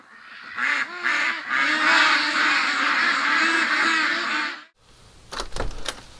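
A large flock of over a thousand ducks quacking together in a dense, loud, continuous chorus at close range, then breaking off abruptly into quieter scattered noise.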